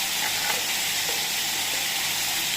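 Quail pieces and two livers fry in a pan, giving a loud, steady sizzle with a constant hiss throughout and no voices.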